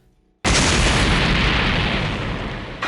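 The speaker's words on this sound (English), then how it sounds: "he causes an explosion that rings out, warning everyone nearby of what's happening" Explosion during a Dragon Ball Multiverse fight: a sudden loud blast after a quiet moment, followed by a sustained roaring rumble that slowly fades.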